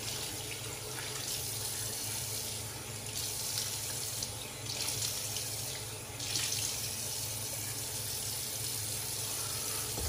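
A sink tap runs steadily while a face is wetted for a wet shave, giving a continuous, fairly loud splashing hiss of flowing water with small surges and no pauses throughout.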